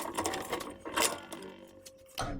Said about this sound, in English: let's get these screws out of here, these old screws.